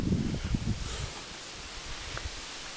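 Outdoors on saturated ground, wind buffets the microphone in low rumbling gusts, strongest at first and then easing into a steady, softer rush.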